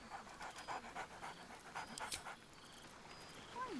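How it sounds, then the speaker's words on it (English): Scratch, a dog companion in a video game, pants steadily in a quick rhythm with a few light barks and whimpers, fairly close and moderately loud over faint game ambience. "Scratch barks merrily in something like agreement."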